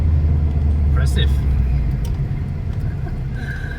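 Turbocharged BMW E30 with a custom exhaust, its engine a deep, steady rumble that fades slightly toward the end, with people talking over it.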